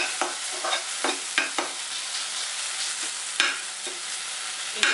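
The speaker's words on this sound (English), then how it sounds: "chopped tomatoes, and stir them very well" Chopped tomatoes and onions are stirred in a pan over a low flame, giving a steady soft sizzle broken by repeated scraping and clacking strokes of the spoon at an uneven rhythm.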